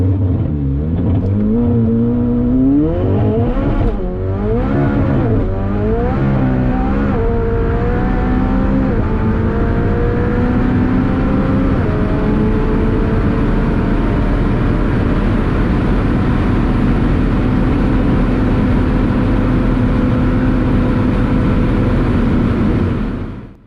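Tuned McLaren 720S with over 1000 hp accelerating hard down a runway, engine roaring and rising in pitch through several quick gear changes, then holding a loud sustained high-speed drone with no talking.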